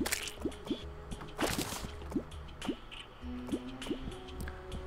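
Water draining in the Terraria video game, a rapid run of liquid drips and squishy gurgles, some with rising pitch, over a low droning game background.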